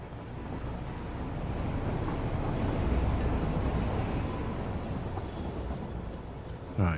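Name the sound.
train moving in a factory video game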